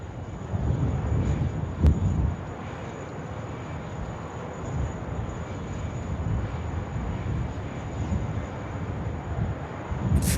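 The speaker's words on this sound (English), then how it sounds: "The 748 just getting in the action now." A Boeing 747-8 freighter arrives at night on runway 16R at Sydney Airport, its engines a steady, broad, rumbling roar heard from a distance throughout, mixed with some wind buffeting on the microphone.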